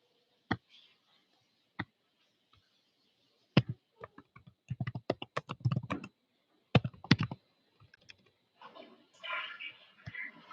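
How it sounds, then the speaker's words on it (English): Someone types on a computer keyboard in quick, uneven bursts of crisp key clicks, separated by a few isolated taps and short pauses, with a soft rustle near the end. "Y'all know I'm almost typing."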